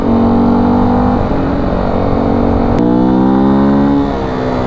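A motorcycle engine revs loudly and close, its pitch climbing and dropping through several throttle blips, with no talking.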